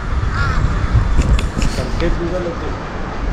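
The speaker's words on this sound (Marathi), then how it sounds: "किती कावळे फिरताय" Several crows caw outdoors near Manali, harsh repeated calls rising over traffic noise while a person talks nearby.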